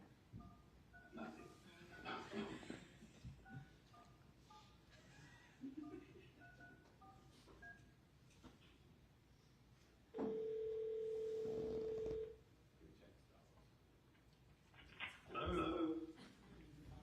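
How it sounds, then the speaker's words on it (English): Telephone call signal over a courtroom remote video link: scattered beeps, then one steady tone lasting about two seconds, set among quiet courtroom voices and room noise. "Can you call again, Colleen?"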